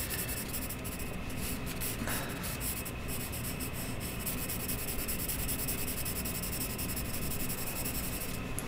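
A sharpened graphite pencil rubs steadily across paper in close, continuous shading strokes, a soft scratchy rasp with no voices.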